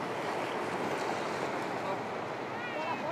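Sea waves wash onto Dhanushkodi beach at the southern tip of Tamil Nadu, a steady broadband roar of surf with wind buffeting the microphone, loud and continuous, under faint talk.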